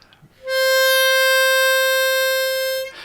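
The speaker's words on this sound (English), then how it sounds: "we're going to start by playing a 4-hole blow" A harmonica plays a single clean, steady 4-hole blow note held for about two and a half seconds, close and bright, with no talking.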